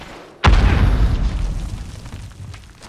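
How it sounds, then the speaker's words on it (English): A missile strike in the video game Call of Duty: Modern Warfare (2019), on a cave map in Team Deathmatch, lands as one sudden loud booming blast that rolls on and slowly fades over the next couple of seconds. "missile incoming. Take cover."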